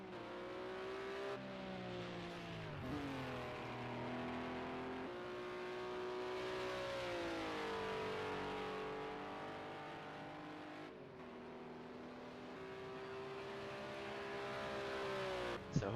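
A Sauber C9 Mercedes-Benz race car in a racing video game, its engine droning steadily at high revs with rising and falling pitch as it runs around the track, continuous and fairly close.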